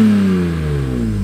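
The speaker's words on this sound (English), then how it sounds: "Then I installed active autowork headers that made my car sound like a Ricer Civic." BMW E46 M3 fitted with Active Autowerke headers and a Rogue Engineering muffler, a steady loud exhaust drone with rising harmonic tones, close and continuous with no talk.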